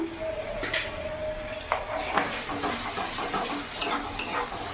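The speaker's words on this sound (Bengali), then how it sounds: "এরই মধ্যে এখানে আদা রসুন বাটা আমি ছোট চামচে দু চামচ দিয়ে দিলাম" Ginger garlic paste sizzling in a hot pan for Hyderabadi chicken, a dense close frying hiss with light clinks and scrapes of stirring against the pan.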